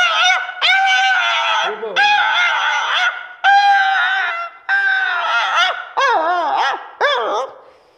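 A man imitates several dogs fighting with his voice, producing a rapid run of close, loud yelps, snarls and whining barks in short bursts separated by brief gaps.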